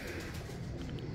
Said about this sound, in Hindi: बड़े सिर वाले कबूतर हैं जी